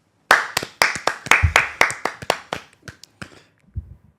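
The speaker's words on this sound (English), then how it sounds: "just a massive clap from everyone at UBF" A few podcast hosts clap by hand, a short run of sharp, close, separate claps in a quickening rhythm that grow softer and sparser before stopping, with no talking.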